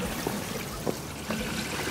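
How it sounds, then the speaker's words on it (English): Waste from a camper van's black tank drains through a sewer hose, producing a faint, continuous trickle and gurgle with a few brief splashy bursts. "that noise is the black tank That means we're draining."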